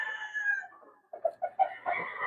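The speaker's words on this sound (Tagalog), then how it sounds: "Gandang manok." A rooster makes a drawn-out call, then several short, sharp clucks in quick succession, fairly close and moderately loud.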